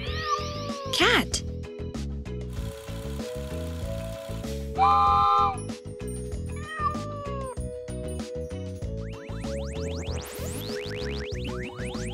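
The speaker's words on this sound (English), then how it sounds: "Cat." A cat meows in short bursts over busy, rhythmic background music, the meows rising and falling in pitch at a few points, loud and close.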